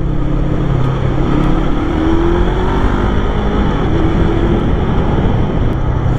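A Bristol Veloce 500 motorcycle is ridden at speed, its engine drone steady under heavy rushing wind buffeting the microphone, loud and continuous with no talking.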